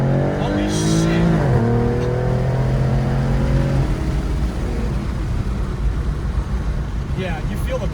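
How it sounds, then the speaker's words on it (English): Supercharged 2014 Mustang with a 3.7L V6 pulling hard at full throttle, engine note climbing steeply in pitch then dropping off into a steady loud drone, with voices talking over it. "Alright, full throttle."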